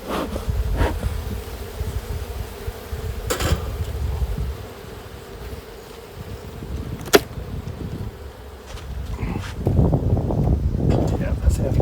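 Continuous buzzing of many honeybees close by around hive frames, rising and falling, with occasional handling knocks and rustles.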